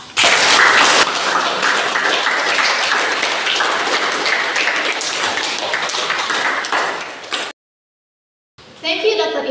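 Audience applause at an academic speaking event, a dense, loud burst of clapping close up that carries on for several seconds before stopping abruptly, then resumes briefly.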